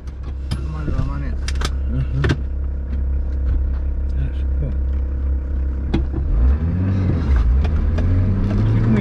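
Low, steady engine rumble of an off-road SUV labouring in low-range gear on an off-road course, with a voice talking over it and a brief rise in engine note.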